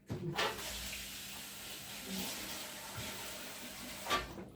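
Water is poured from a container in the kitchen while rice pudding is being made, a steady splashing pour running for several seconds with short clatters near the start and end.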